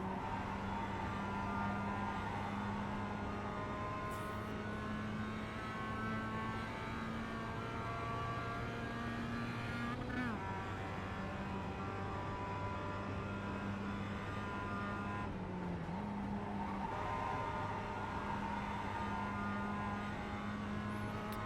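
Production race cars at Watkins Glen in the iRacing simulator, a steady engine drone with layered harmonic whine from the surrounding pack, pitch dipping and rising through gear changes and the chicane, continuous and loud without talk.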